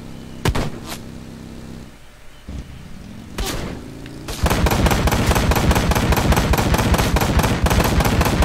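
Gunfire rings out in Ride to Hell Retribution: a few loud separate shots first, then a long rapid burst of steady, evenly spaced automatic fire, loud and close.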